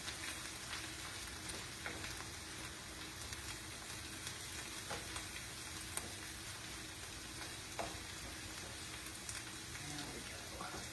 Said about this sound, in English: I'm going to mix this in real quickly, and then I'm going to take it off of the heat.